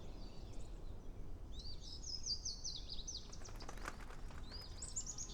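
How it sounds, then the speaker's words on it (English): Wild birds singing in a city setting, with high chirping phrases and tweets coming and going over a steady low urban rumble, fairly faint and at a moderate distance. "To hear natural birds doing what they do, singing away, without sort of a care of what humans are doing around them."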